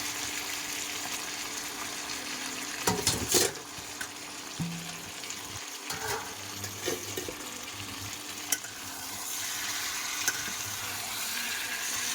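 Potatoes frying in hot oil in a karahi pan while meat cooks, a steady broad sizzle throughout with a few clattering stirs and scrapes of a utensil, heard close and alone without talk.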